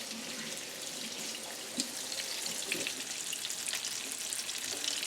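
Macadamia-nut-crusted haddock frying in a pan, a steady close hissing sizzle with faint crackles running throughout, alone without talk.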